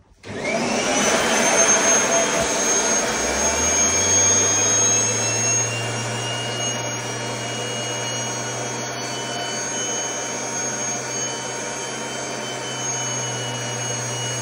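A Kirby heavy duty vacuum cleaner starts up and runs with a loud, steady whine and a low motor hum, rising at first and then holding constant and close, with no talking.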